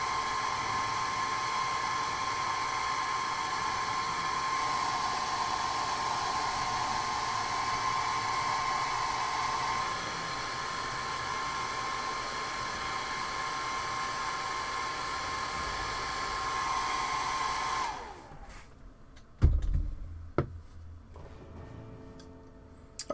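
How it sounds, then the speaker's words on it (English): A hair dryer runs steadily with an even, close whooshing drone for about eighteen seconds, then cuts off, leaving a few thuds and clatters in a quiet room. "and I apologize for the hairdryer here."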